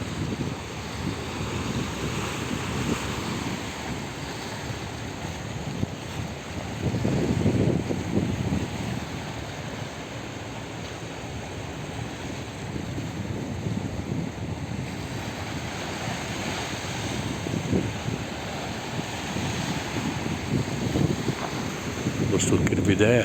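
Sea waves on a sandy beach wash in as a continuous roar, with heavy wind buffeting the microphone. A person talks over the surf throughout.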